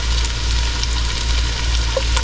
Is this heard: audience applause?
no